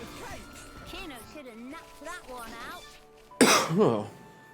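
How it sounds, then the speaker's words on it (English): A person coughs and clears their throat repeatedly at close range, a series of rough, raspy bursts, the last ones louder and harsher, with faint background sound beneath. "I have to deal with this coughing problem again"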